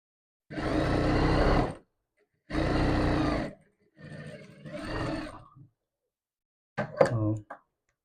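A sewing machine runs in short bursts while stitching the shoulder seam of a garment at a reduced stitch size, with four separate runs and brief pauses between them, close and fairly quiet.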